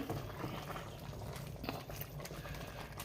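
Pieces of rutabaga bubble in a pot of boiling water for soup, a steady low gurgling simmer, close and quiet with no talk.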